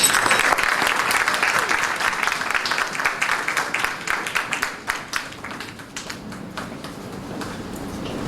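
An audience claps at a primary schools' public speaking competition after a student's speech, a dense, steady round of applause that gradually thins and softens toward the end.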